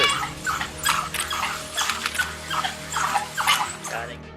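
High-pitched yips and squeaky whimpers from a pack of African wild dogs attacking a bushbuck, repeated in quick bursts over a steady low hum, fairly close.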